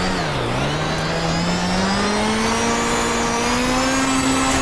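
Group B Lancia Delta S4 rally car climbing a steep mountain road, its engine dipping briefly and then revving steadily higher, loud and close throughout with no voices.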